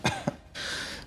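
A person clears their throat with two quick, rough bursts, followed by a soft breathy exhale.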